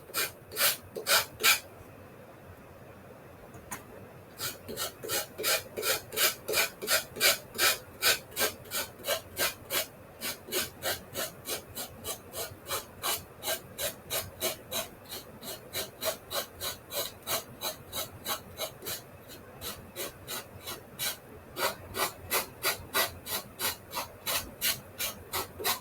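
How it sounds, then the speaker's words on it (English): Sandpaper rubbed by hand along the curved edge of a small wooden cutting board, making steady rhythmic back-and-forth strokes, close and clear, with a couple of brief pauses between runs. "So this curve is interesting to try and sand."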